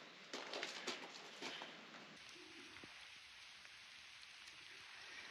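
A heavy rain downpour hisses steadily outdoors near a newly fitted drain, a dense, even wash of falling water with patter on surfaces and no voices.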